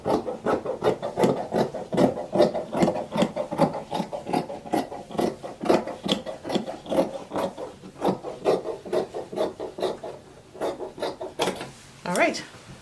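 Scissors cut fabric around a paper pattern for a double-sided hair bonnet, making a close series of rhythmic crisp snips and rasping strokes that repeat steadily.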